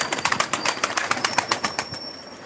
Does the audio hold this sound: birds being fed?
yes